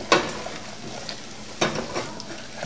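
Flour and butter roux browning in a pan, with a few sharp scraping stirs over a soft, steady sizzle; no one speaks.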